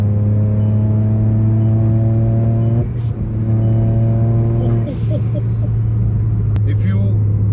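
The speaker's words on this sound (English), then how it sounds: "foot down, boost builds, kicks in, hitting red line, shifting to third" Modified VW Polo 1.0 TSI with a big turbo and close-ratio gearbox accelerating hard; a loud, steady engine drone is broken by two quick gear-change pauses, with a voice talking over it.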